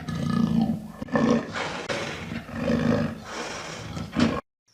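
A black panther, the melanistic jaguar, gives a series of loud, close, rasping roars, each a hoarse sawing burst repeated in a rough rhythm, ending abruptly in silence.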